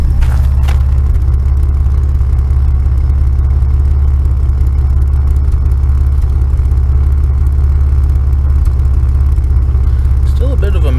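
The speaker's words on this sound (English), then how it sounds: "Still a bit of a misfire there with the exhaust." A 1991 Oldsmobile Cutlass Ciera idles loud and close with a heavy low rumble, its engine misfiring through the exhaust in an uneven, shaking pulse after a test drive.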